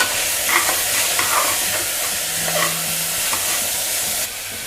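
Peas and finely chopped carrot being stirred in a pan for coconut milk rice, a close, soft sizzle with scraping spoon strokes and light knocks throughout.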